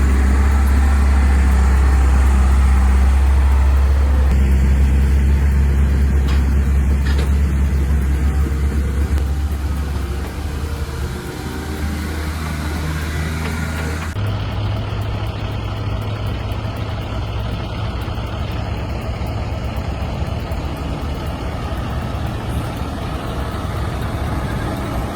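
A heavy haulage truck towing a heavy machine on an icy road gives a steady, loud diesel drone and low rumble, shifting abruptly in tone partway through as the engine note changes, with no talking.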